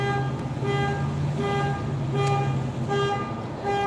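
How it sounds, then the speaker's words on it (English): A car horn beeps again and again in short repeated toots outdoors, fairly loud against a low rumble of traffic. "this car been beeping."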